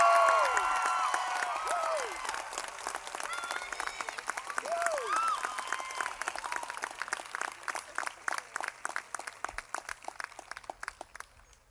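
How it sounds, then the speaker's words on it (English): At a university commencement ceremony, a large audience breaks into loud applause with some cheering and whistles, the dense clapping gradually thinning into scattered individual claps as it fades. "So if you could give Aditya a big round of applause for his parents in India."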